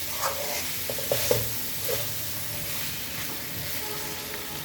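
Goat meat sizzles in a pan as it is stirred and sautéed with garlic, a close steady frying hiss broken by a few scraping, clinking stirs of the utensil, with no talking.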